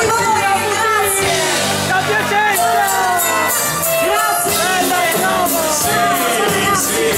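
A disco crowd at Baita Lago cheers and applauds a singer, with shouts and whoops layered over loud ongoing music throughout.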